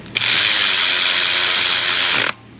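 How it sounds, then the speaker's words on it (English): Power ratchet tightening nuts on an engine bracket of a Toyota 2GR-FE 3.5L engine during a top-end teardown, one loud, close, continuous whir lasting about two seconds, then stopping abruptly. "we have a nut to secure that bracket. Let's get all these guys tight."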